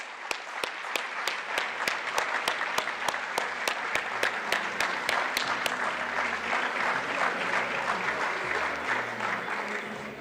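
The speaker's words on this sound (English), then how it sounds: "Let's give her a big round of applause." An audience at a West Africa regional summit breaks into sustained applause, dense and steady for about ten seconds, with a few sharp individual claps standing out near the start.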